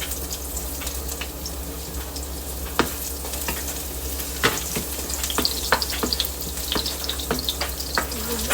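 Garlic browning in a frying pan, a steady sizzle with sharp ticks and clicks of stirring and utensil scrapes spread through, with a low constant hum underneath and no talking.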